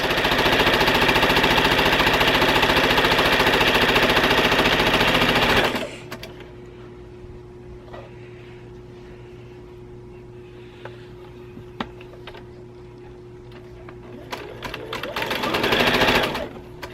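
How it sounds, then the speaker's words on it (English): A sewing machine stitches half square triangle quilt pieces without pins, a loud, steady mechanical whir running for about six seconds before stopping abruptly, leaving a quiet room with faint rustling and a brief louder hum near the end. "I'm just sewing them into the half square triangles"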